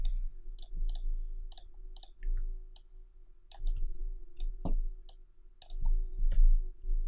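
Sharp mouse clicks, some single and some in quick pairs, at an irregular pace while building in Unreal Engine 4, heard close and fairly quiet over a low steady hum.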